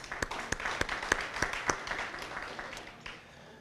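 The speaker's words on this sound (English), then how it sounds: "Give a big round of applause for all of our other sponsors." Audience applause for sponsors at a charity appreciation luncheon: a room of people clapping with a few sharp, distinct claps standing out over a steady patter, fading toward the end.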